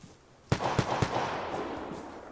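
Three sharp gunshots ring out in quick succession in the game Vigor, followed by lingering ambient rumble and a couple of fainter distant shots.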